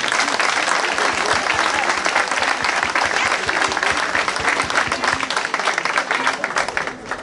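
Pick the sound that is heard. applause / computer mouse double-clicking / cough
applause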